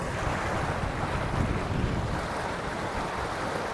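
Steady rushing roar of a V-keel motorboat with a Torqeedo Travel XP electric outboard at full throttle across water, with wind buffeting and spray noise, continuous and fairly loud throughout.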